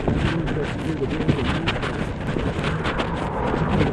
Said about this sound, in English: very windy today and in the last 2 days.